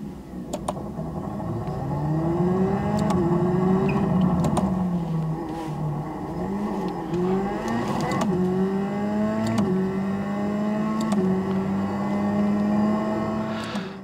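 Racing-simulator car engine from a driving game, played through a Fanatec direct-drive wheel rig, rising and falling through repeated revs and gear changes, steady and fairly loud with faint mechanical clicks from the wheel.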